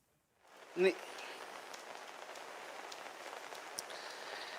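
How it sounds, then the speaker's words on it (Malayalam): Heavy rain in Kozhikode, Kerala hisses steadily after a brief silent start, a dense even patter with one soft thump early on. "ശക്തമായ മഴ ഇപ്പോഴും തുടരുക തന്നെയാണ്"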